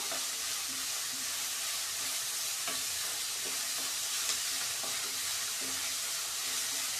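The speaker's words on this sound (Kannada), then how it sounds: "ಸ್ವಲ್ಪ ಚೆನ್ನಾಗಿ ರೋಸ್ಟ್ ಮಾಡ್ಕೊಳ್ಳೋಣ." Paper poha roasting in a pan with red and green chillies, a continuous dense sizzle with soft, irregular stirring scrapes throughout.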